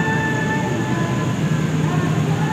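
The Senja Utama passenger train at Bumiayu station, heard as a steady loud rumble with faint tonal whines, as if from inside the carriage during the Lebaran holiday trip.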